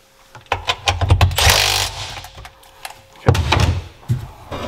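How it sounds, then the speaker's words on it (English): A drive shaft rubs in the PTO of a Sea-Doo 787 engine as mounting bolts are torqued down, giving close, irregular scraping and knocking bursts with clanks of metal and short pauses between them. "Hear a little bit of the shaft rub on it"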